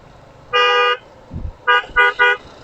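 A car horn on a dark road honks in short electronic blasts: one long toot, then three quick beeps after a brief thump, loud and close with no talking.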